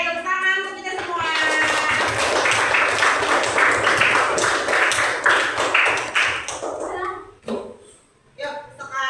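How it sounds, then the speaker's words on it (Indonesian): Classroom audience applause during an Islamic religious education lesson on zakat, a burst of many hands clapping for several seconds that fades out, followed by a teacher's voice speaking. "Oke, tepuk tangan untuk kita semua."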